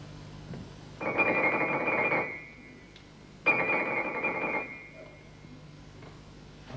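A telephone rings in two long bursts, each about a second and a half of a bright electronic trill, separated by a pause, fairly close and clear with a quiet background on a theatre stage.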